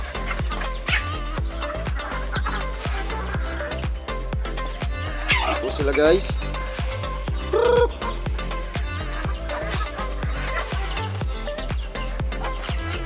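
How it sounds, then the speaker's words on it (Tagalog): Backyard pet chickens cluck and call at feeding time beneath a constant low background hum, with someone talking over them. "ito nga po pala yung mga alaga akong manok. Pakainin na natin."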